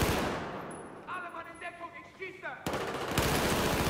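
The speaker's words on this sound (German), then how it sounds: "Alle Mann in Deckung, ich schieße!" Rapid, loud bursts of automatic gunfire and explosions from the Battlefield 4 video game, Zavod map in Domination mode, with sustained fire at the start and end and a busier, quieter stretch in between.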